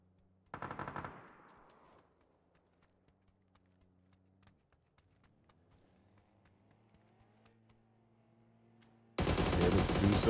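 Gunfire in the battle royale game PUBG: a short burst of rapid shots early, a long quiet stretch with faint engine-like hum, then dense, loud sustained automatic fire at the end.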